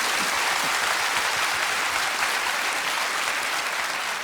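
A studio audience at a televised KBS 7080 concert show claps in a full, even round of applause that fills the whole stretch without letup.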